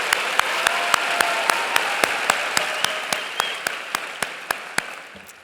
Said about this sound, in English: Let's give all these winners a round of applause.